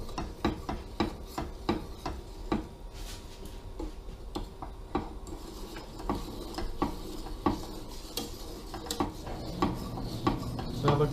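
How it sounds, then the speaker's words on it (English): Cornstarch-thickened cheese sauce stirred constantly in a pot as it turns silky, giving a steady run of close, rhythmic scraping ticks and rubs with a soft sizzle underneath, no talking. "Make sure to stir that constantly."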